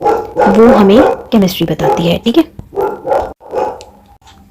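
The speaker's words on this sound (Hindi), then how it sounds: "कुत्ते ज़रा भौंक रहे हैं, इसको थोड़ा सा अवॉइड कर देना." Dogs bark and yip outside during a class 11 chemistry lesson given in Hindi. The barking is partly masked by the teacher's steady, close voice, which runs over it throughout.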